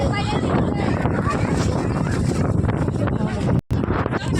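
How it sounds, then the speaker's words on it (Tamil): Strong, cold wind roars steadily across the microphone outdoors, a dense, continuous buffeting rumble with a brief dropout near the end, while a voice talks faintly beneath it. "செம்ம காற்றடிக்குது"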